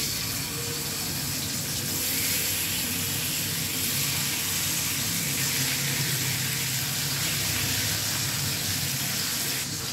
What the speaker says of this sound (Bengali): মাছগুলো ভাজা হচ্ছে, এবার আমি ঢাকা দিয়ে দেবো